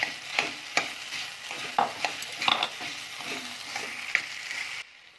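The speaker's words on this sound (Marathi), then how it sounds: "आता आपण यामध्ये तुरीचे दाणे टाकून घेऊया" Fresh green pigeon pea grains being stirred in a hot kadhai, with a soft sizzle under repeated scraping and clinking strokes of a spoon against the pan, close and uneven, ending in near silence.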